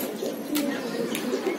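Pigeons coo softly in a loft, a low murmuring burble close by with a couple of brief rustles or wing sounds, and no one talking over them.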